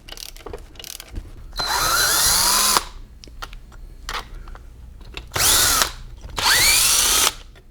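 Impact gun rattling off bolts on a Dana 300 transfer case during a teardown, loud close bursts of one to two seconds, separated by quieter clinks and handling noises.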